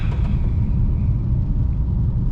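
A BMW F82 M4 drives on a wet road in the rain, giving a steady, loud low rumble of engine and tire hiss throughout with no pauses and no one talking.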